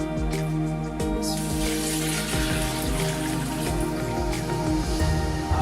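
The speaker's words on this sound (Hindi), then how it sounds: "अब इसके अंदर हम 8 गिलास पानी के डालेंगे" Water being poured from a glass into a pot of whole masoor lentils, a dense continuous splashing rush, close and fairly loud, with no talking.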